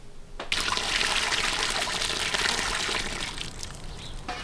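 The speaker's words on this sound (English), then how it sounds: "then we can pour the water out" Water poured out of a pot used for rendering beeswax from backyard hives: after a short quiet start, a loud splashing gush runs for about three seconds, then tapers into a lighter trickle.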